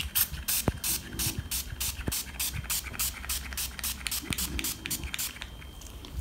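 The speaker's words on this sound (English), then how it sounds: "and now I'm just spraying it." A spray bottle fires rapid repeated bursts of hissing mist in a steady rhythm, close by, with a few soft knocks between sprays.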